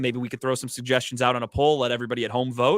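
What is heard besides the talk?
No everyday noise stands out behind the speech.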